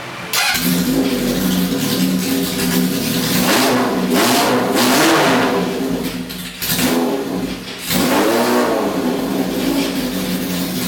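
Honda CB750 K0 Sandcast motorcycle engine running close and loud with steady revving, rising and falling in pitch through several throttle blips over a continuous idle rumble.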